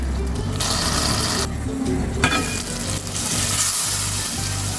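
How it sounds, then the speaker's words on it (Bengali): Spice masala with salt sizzles and is stirred in a hot pan, a steady close frying hiss broken by scraping spatula strokes and brief pauses, with a low hum underneath. "এখন এই মশলাটাকে ভালো করে কষাতে হবে"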